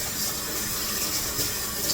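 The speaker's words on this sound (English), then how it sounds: "Maybe try running it in the cold water for a few minutes." Tap water running steadily over frozen hot dogs in a sink, a constant close hiss and splash with no pauses.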